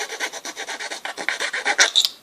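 Wood being filed with a rasp into a pile of shavings while a broken arm is repaired, a steady back-and-forth scraping in close, even strokes with no talk.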